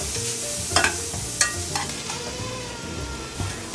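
Onions and hot peppers such as jalapenos frying in a pan, a steady close sizzle with scattered crackles and occasional stirring scrapes throughout.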